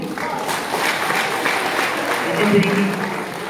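Audience applause at a choir concert event, a steady wash of clapping from a crowd that continues beneath a speaker's voice.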